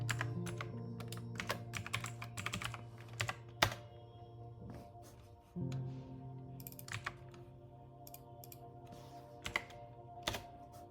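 Typing on a computer keyboard into a browser address bar, a steady run of sharp close key clicks with uneven rhythm and a few heavier thunks, no voice, over a faint steady hum.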